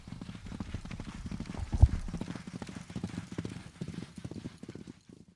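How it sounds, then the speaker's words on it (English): Two-year-old racehorse fillies gallop during morning training, their hoofbeats a steady rapid clip-clop close by with one sharp louder thud midway, fading slightly toward the end. "Both 2-year-old filly staying types, and this is their first serious gallop this morning."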